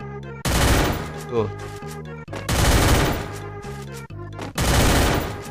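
MP5 fire in a shooter video game comes as three long loud bursts of rapid automatic shots with brief gaps between them, while someone speaks in Indonesian over the gunfire.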